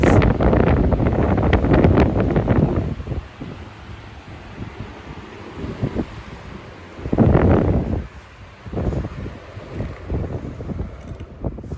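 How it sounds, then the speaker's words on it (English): Several running Emerson 77646 fans push air in a loud, gusty rush, with surging swells of wind noise that rise and fall in broad waves, no voices present. "Now there is a lot of air moving here. Probably a lot of wind noise."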